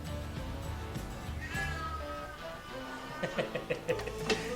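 An unhappy pet cat meows several times in a home kitchen while tofu is pan-fried for a braise, the cries coming close and fairly loud over steady cooking sizzle and background noise.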